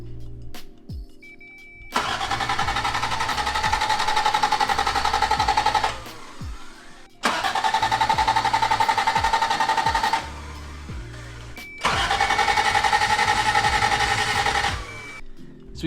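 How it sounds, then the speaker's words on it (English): A Toyota 1JZ engine in a failed swap cranks without starting in three long bursts of steady, loud starter whirring, each lasting a few seconds and separated by short pauses, with no firing and no talking. "So we cranked it. Nothing happened. It didn't start, it didn't do anything."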